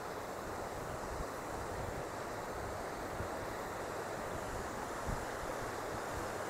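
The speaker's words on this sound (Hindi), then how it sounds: "नदी की चादर जो है वो चल रही है" Kali Sindh river water flowing in a steady broadband rush, with wind buffeting the microphone and no talk.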